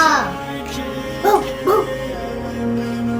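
A cartoon dog in a children's alphabet animation gives two short, bright barks in quick succession over a steady musical background, fairly close and clear.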